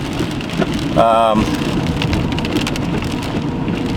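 Heavy rain from an intense thunderstorm over Sheridan, Wyoming pours down in a dense, constant roar, with a brief wavering warble rising above it about a second in.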